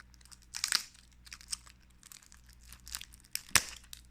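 Cellophane wrapping on a Tomica toy box crinkles and tears in short, scattered rustles, with two sharper rips standing out; quiet and close, with no talking over it.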